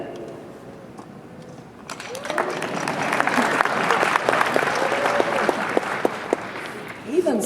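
A convention panel audience bursts into applause after a quiet opening, clapping building to a sustained, fairly loud round with individual claps standing out near the end.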